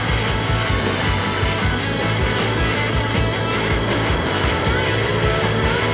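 A moped accelerates in first gear on a street, its small engine buzzing loud and close with a rising pitch and rhythmic pulsing throughout.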